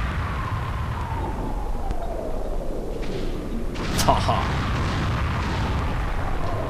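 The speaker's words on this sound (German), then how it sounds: "Auch die Explosion der Basis ist sicherlich eines der Highlights bei Lighted Wars." A base explodes in the Nintendo 64 space shooter Lylat Wars, a sustained rumbling blast with a sharp burst partway through, over continuous game noise and a brief laugh.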